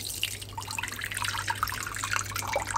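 Soaked wheat grains drain through a sieve as water trickles and drips steadily, a close, continuous patter of droplets with no talking.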